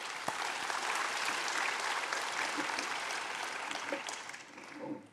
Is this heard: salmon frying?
no